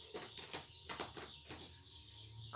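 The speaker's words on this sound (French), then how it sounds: "Écoutez les oiseaux" Faint birdsong outdoors: soft chirps and calls repeat in short bursts at a distance.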